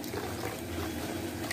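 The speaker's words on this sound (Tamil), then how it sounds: "இப்போ அந்த பாலையும் நம்ம அதில் புழிஞ்சு விட்றலாம்." Coconut milk is squeezed into a simmering mutton curry, giving a soft, continuous liquid splashing and bubbling close up, with no talk over it.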